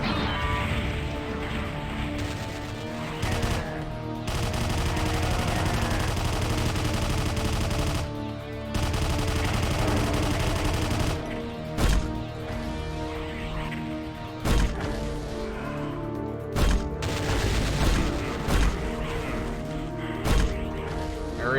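A lone machine gunner in Doom fires loud, sustained automatic bursts, broken by short pauses and punctuated by sharp impacts and crashes.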